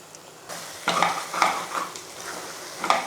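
Eggs being stirred into onions frying in a pan, with a spatula scraping and tapping in several clear strokes over a steady close sizzle, no voices.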